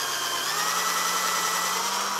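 A power drill whirs steadily at high speed for about two seconds, close up, drilling a hole for a Yamaha Tenere 700 rally tower, then winds down abruptly.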